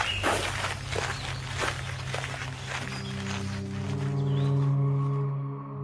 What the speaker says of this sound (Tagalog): Hindi natuloy ang sasabihin Amara nang marinig nila ang mga yabag. Papalapit sa kinaroroonan nila